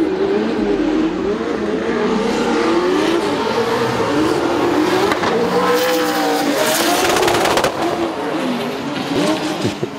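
Race cars with 2JZ and 1UZ Turbo engines roar and accelerate hard on a circuit during a French championship race, engines revving loudly with rising pitch, tire noise and a continuous dense wash of motor sound.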